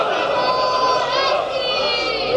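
A crowd at a religious conference in Multan chants slogans together, loud overlapping voices rising and falling in unison, with general crowd murmur underneath.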